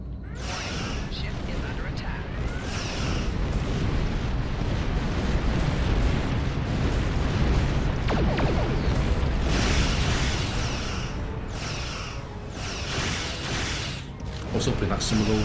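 Repeated booming explosions in Star Trek Online space combat, a dense, continuous rumble with bursts spread throughout, layered with game effects.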